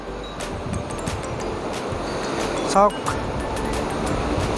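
A river rushes below a bridge in Roing, Arunachal Pradesh, as a steady, broad wash of water noise that runs throughout beneath someone talking close by.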